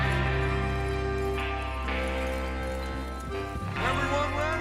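Horses clip-clopping and an occasional whinny as a gang rides out in Red Dead Redemption 2, set under steady music and ambient game sound for the whole stretch, with speech mixed in.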